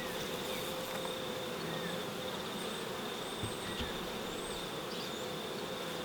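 Honey bees buzz around a beehive being prepared for winter, a quiet, continuous insect drone with a faint high whine running steadily across the whole span.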